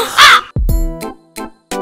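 A crow caws loudly and close by in a short sound effect, one harsh call followed by three more clipped, nasal caws separated by brief silences.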